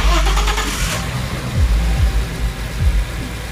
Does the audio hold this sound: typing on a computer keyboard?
no